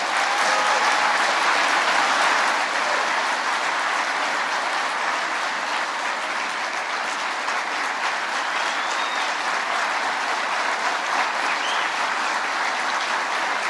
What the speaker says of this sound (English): I should be clapping for you.